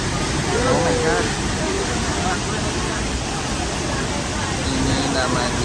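A constant heavy rush of falling water from Telun Berasap waterfall, Kerinci, fills the air at close range, with faint murmured voices and brief tonal chirps drifting through the even roar.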